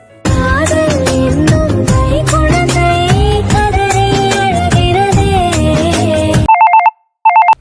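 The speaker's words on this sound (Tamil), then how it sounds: "ஃபோன் அடிக்கா" A loud, melodic phone ringtone plays for several seconds, then cuts to a few sharp electronic ring bursts with a short silence between.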